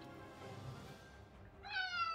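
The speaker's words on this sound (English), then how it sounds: "Can you hear my cat? He's hovering around me, meowing." A cat meows once, a clear rising call near the end, after a quiet stretch of faint background sound.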